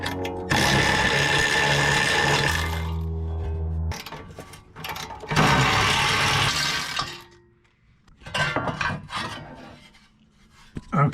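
Ratchet with an extension working 10 mm bolts off the heat shield of a Jeep Grand Cherokee ZJ, loud close metallic rasping and clicking in long bursts separated by brief pauses.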